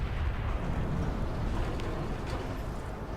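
A massive Titan weapon strike explodes on an orc in the Space Marine game, a deep, continuous roaring rumble with scattered crackles, loud and sustained throughout.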